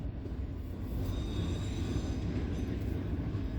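A regional train reverses slowly through a rail yard at night, heard as a faint, distant, steady low rumble with a thin high whine above it.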